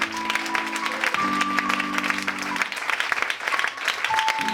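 A church congregation claps and acclaims Jesus in loud, sustained applause, dense and continuous, with cheering voices and sustained tones blended throughout.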